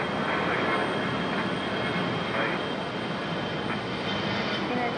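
A fixed-wing airliner takes off from runway 23 right at Raleigh-Durham International Airport with a loud, steady broadband engine roar that holds for several seconds and fades slightly toward the end.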